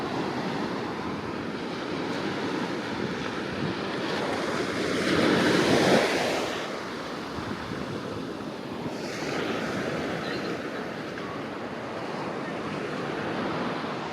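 Sea waves wash steadily onto Varkala beach in Kerala, a broad continuous roar with a louder surge midway, mixed with wind buffeting the microphone.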